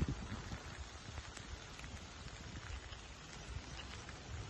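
Heavy rain pours steadily in a forest, a dense, constant hiss with low rumbling wind-like noise underneath and no voices.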